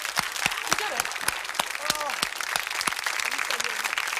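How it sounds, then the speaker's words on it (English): A 1970s television studio audience applauds, a dense, sustained wash of clapping with sharp individual claps standing out and voices briefly heard underneath. "A big round of applause for..."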